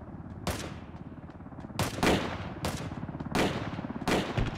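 Gunshots fired toward the player in the video game Ring of Elysium, five loud sharp cracks spaced about a second apart over a constant low engine-like rumble.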